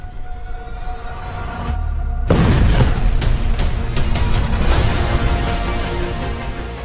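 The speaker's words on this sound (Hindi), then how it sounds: "धमाका नंबर 3, धमाका नंबर 4, धमाका नंबर 5 और धमाका नंबर 6" A series of heavy explosions, with booming blasts and a sudden loud burst midway, followed by rumbling and crackling that fades slowly.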